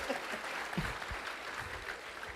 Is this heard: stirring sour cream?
no